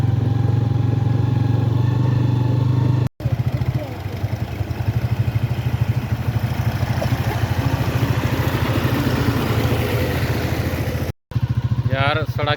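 A motorcycle rides along a rain-soaked, muddy village road, its engine humming steadily up close, with two brief cut-outs in the sound.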